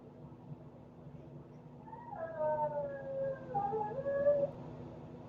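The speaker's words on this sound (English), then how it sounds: "That's my dog." A Pomeranian and Chihuahua mix dog lets out a drawn-out, wavering howl indoors, moderately near, rising and falling over a few seconds against a low steady hum.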